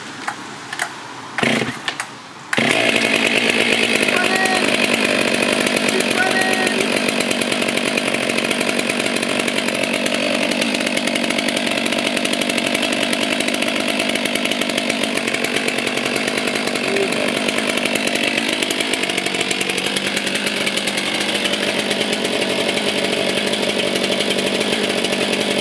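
A Stihl 500i chainsaw, on its first start, roars continuously while cutting wood after a few brief knocks at the start, loud and close with its engine note shifting under load.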